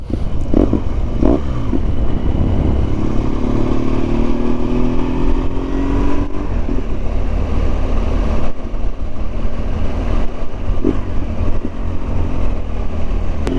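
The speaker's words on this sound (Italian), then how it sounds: "qui sotto il traffico, vedo dall'alto, sta aumentando, stanno salendo un bel po' di moto e altrettante stanno scendendo" Motorcycle engines drone continuously on a road below, heard from above, with revs rising and falling as bikes pass uphill and downhill; a loud, steady traffic rumble with no voices.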